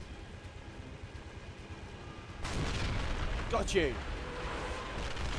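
Mortar fire in the video game Men of War: Assault Squad 2 lands as a sudden loud blast that rumbles on, with a voice speaking briefly over it.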